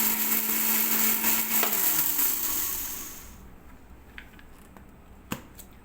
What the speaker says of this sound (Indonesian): Dan seperti biasanya ketumbar ini tidak menggunakan air, saya gilingnya.